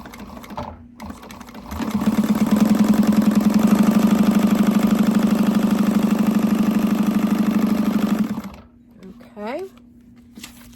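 A sewing machine stitches a bag pocket in a fast, steady mechanical whir that runs for about six seconds, then stops. Brief speech comes before and after the stitching.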